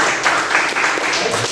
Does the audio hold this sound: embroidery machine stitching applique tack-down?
no